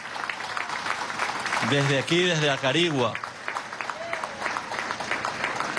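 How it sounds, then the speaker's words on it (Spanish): Crowd at a political rally in Acarigua applauding a speech, with clapping and cheering swelling over someone speaking loudly through a PA system. "a quien le pido un fuerte aplauso"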